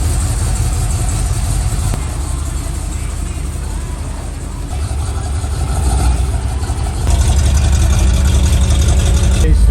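A 1969 Chevelle's engine runs steadily at a low, rumbling idle, loud and close, its level swelling slightly toward the end with no talk over it.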